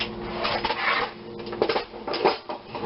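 Metal kitchen utensils clatter and scrape in a drawer during a search for a small whisk, a steady close jumble of rattling clinks and knocks.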